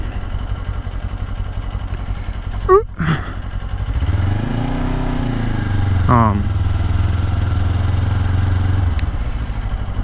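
A motorcycle engine running during a ride, a mid-pitched drone that dips and swells as the revs change through gear shifts, with wind rush and speech heard over it.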